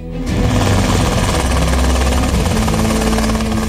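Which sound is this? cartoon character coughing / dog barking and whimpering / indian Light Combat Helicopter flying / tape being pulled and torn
indian Light Combat Helicopter flying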